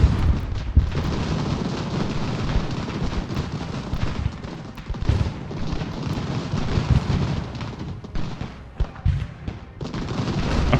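Continuous rumbling cannon and musket fire from a battle in the strategy game Ultimate General: American Revolution, dense and loud with frequent booming bursts throughout.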